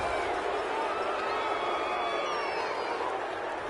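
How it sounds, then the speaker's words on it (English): A stadium crowd in a Madden football video game reacts to a penalty call with a sustained, even roar of disapproval. The noise is a steady wash with no voices standing out. "this crowd does not like that call"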